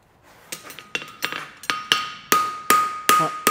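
A farrier hammers a straight-bar 3/4 fullered horseshoe to roll the toe, ringing metallic blows that start light and grow to sharp, loud strikes at an even pace, close up.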